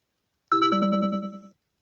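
A phone ringtone rings once, a bright tonal electronic chime that starts abruptly after a moment of silence, plays for about a second and cuts off, loud and alone in a quiet room.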